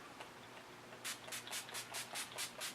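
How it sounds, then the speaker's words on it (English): A rapid series of about eight short, crisp spritzes of NYX setting spray misted onto a face, evenly spaced and close by, against a quiet room background. "I'm going to take NYX and I'm just going to spray it all over my face"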